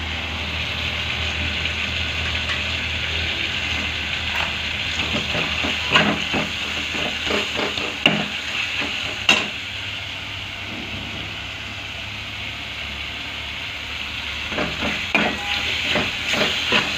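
Fried potatoes go into a sizzling tengra fish curry in a pan: a steady close hiss of frying, broken by occasional clatters and stirring knocks.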